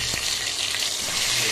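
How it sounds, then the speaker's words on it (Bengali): Rupchanda fish frying in a pan, a steady close hiss and crackle of hot oil running unbroken throughout with no voices. "আমাদের মাছ ভাজার এক সাইড হয়ে গেছে, এবার আমরা অন্য সাইডটা উল্টে দেবো"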